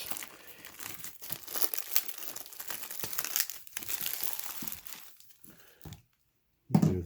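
A knife slices open a cardboard package of comics, heard as a close crinkling and tearing of packaging with scraping strokes that taper off into a brief silence, then one final rustle.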